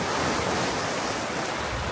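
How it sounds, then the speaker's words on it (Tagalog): Waist-deep sea surf at Boracay beach surges and washes in continuously, loud and close, with heavy wind buffeting the microphone. "Maabot na sa bewang ko yung alon"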